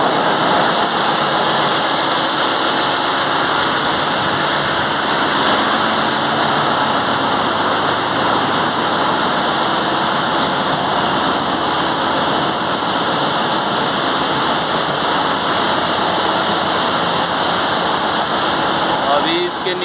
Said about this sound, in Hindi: ये देख सकते हैं अपना पूरा मेन इंजन है।